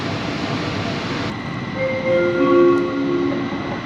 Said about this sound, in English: No idea where this train's going, but I know where it's not going, and that's Nyon.